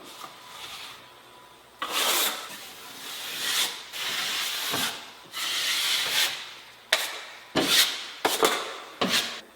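Drywall joint compound spread over a flat seam with a 14-inch curved trowel, heard as a run of long, close scraping and rubbing strokes. Several short swipes follow near the end, with no talk.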